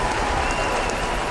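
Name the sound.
applause from crowd in Spider-Man (2000) video game cutscene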